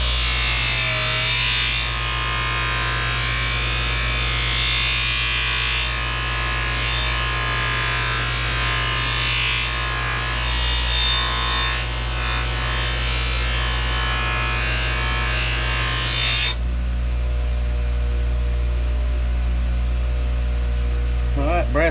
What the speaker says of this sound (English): Now let's try a little bit of white compound, polishing compound.